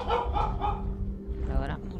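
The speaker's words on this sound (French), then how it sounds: "Je m'attendais pas que mon chien décide de faire le fou." A pet dog barks in a quick run of three close barks, then makes a few softer yips, heard close over a steady background hum.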